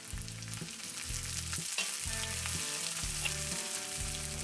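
Onion sizzles and fries in hot oil with chopped ginger and garlic for paneer fried rice, a steady close crackle with stirring sounds and no voices.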